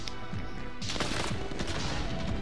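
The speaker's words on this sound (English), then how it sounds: "gunshots coming from over here" Video game gunfire crackles through a tense 2v2 gunfight, with dense bursts of shots overlapping into a continuous loud rattle.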